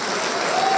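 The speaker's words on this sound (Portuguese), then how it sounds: "e as palmas vão para Jesus." A church congregation claps in a short, dense burst of applause, loud and close, with no voices over it.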